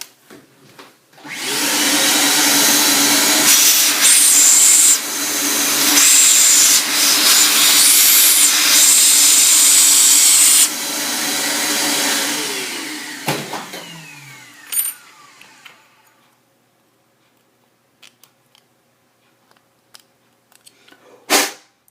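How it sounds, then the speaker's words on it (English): A vacuum machine sucks up dust and scrap after work on a Tamiya Mini 4WD car, roaring loudly and steadily for about twelve seconds, then cutting off and winding down, leaving quiet scattered clicks. "I'm gonna using a vacuum machine to suck all the dust"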